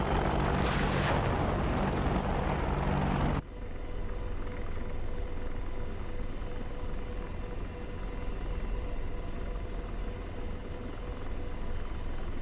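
A Hellfire missile fired from a helicopter in DCS World roars at full loudness for a few seconds, then cuts sharply to a steady, quieter cockpit and engine hum.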